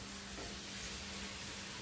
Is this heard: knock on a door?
no